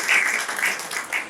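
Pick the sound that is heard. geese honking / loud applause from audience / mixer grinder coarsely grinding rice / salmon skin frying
loud applause from audience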